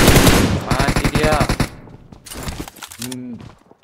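Bursts of automatic gunfire from the mobile battle-royale game PUBG Mobile, a rapid dense volley followed by a couple of shorter bursts, loud and close, with brief talk underneath.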